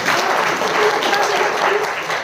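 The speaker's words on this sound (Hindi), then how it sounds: "जोरदार ताली।" A church congregation breaks into loud, sustained applause, dense clapping that fills the space evenly for the whole stretch, with faint voices mixed in.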